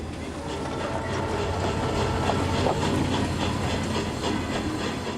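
A train rumbles steadily past with a low continuous roar and faint rhythmic clacking, no voices over it.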